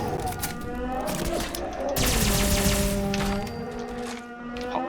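Rapid bursts of sci-fi blaster fire from a Two Shot Cryo Alien Blaster in Fallout 76, sustained and loud across the whole stretch, with a denser volley in the middle amid game effects.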